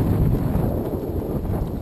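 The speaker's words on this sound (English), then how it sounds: "This wind does not help." Strong wind blows across a microphone on the Coosa River in Alabama during bass fishing, a loud continuous low rumble and buffet with no voices.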